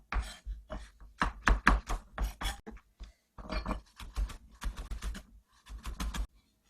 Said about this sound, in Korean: 뺀 씨를 좀 다져 줄게요.